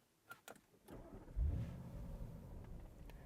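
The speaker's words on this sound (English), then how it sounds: "Beautiful V8 sound when you start it up as well." A 2023 Bentley Bentayga's 4-litre twin-turbo V8 starts up with a few clicks and a brief crank, then fires into a loud, deep rumble that settles into a steady idle, heard alone at close range.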